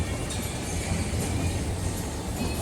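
A train rumbling across a well-known railway bridge in Akihabara, Tokyo: a steady, dense roar with faint rail clatter, heard from street level, continuous throughout.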